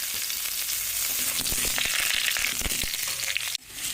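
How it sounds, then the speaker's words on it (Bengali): Cut and washed potatoes frying in hot oil for a chicken curry with chui jhal, a loud, dense, steady sizzle at close range with no talk, then an abrupt drop near the end. "তেলটা গরম হয়ে গেছে, এবার আলুগুলোকে দিয়ে ভেজে নেব।"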